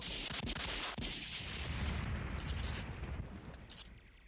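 Dense battle gunfire from the 1997 Indian war film Border, loud and continuous with heavy booming blasts and rapid shots layered throughout, no talk over it.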